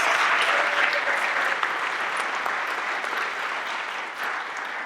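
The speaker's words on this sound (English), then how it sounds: "a round of applause for all the families and friends that are here tonight to support these awesome performers" An audience of families and friends at a Pittsburgh Public Theater Shakespeare monologue and scene contest applauds loudly and steadily, a dense wash of clapping that tapers slightly toward the end.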